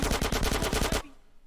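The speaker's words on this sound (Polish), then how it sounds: "To on zdążył do mnie strzelić, czy nie?" Rapid automatic gunfire from a shootout in GTA San Andreas Definitive Edition, a loud unbroken burst of about ten shots lasting a second before cutting off into quiet game ambience.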